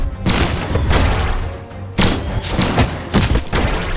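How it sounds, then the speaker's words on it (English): Alien laser weapons fire during a team battle in the fighting game Brawlhalla, loud bursts of rapid shots that come in several clusters with short gaps between them, mixed with thuds of impact. "he has like alien weapons, like lasers"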